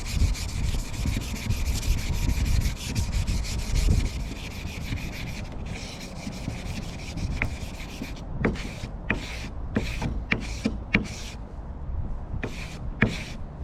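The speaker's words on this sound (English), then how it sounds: "You should sand in between coats. So got some 320 grit." Fine 320-grit sandpaper rubs over a finished oak crib between coats. A continuous scratchy rubbing comes first, then short separate back-and-forth strokes, close and clear.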